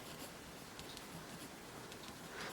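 Soft, faint scratching strokes of writing on a board during a genetics lesson come in short, intermittent bursts in a quiet room, with no talking.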